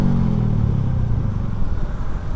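A Honda Revo FI motorcycle fitted with a cheap aftermarket racing exhaust idles close by, a loud, low, steady rumble with a soft even pulse and no voices.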